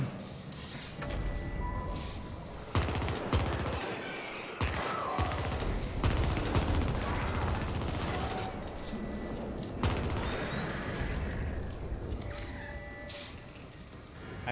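Sustained automatic gunfire in the sci-fi shooter The Ascent, dense rattling bursts running almost continuously with brief gaps, loud and close with explosive impacts mixed in.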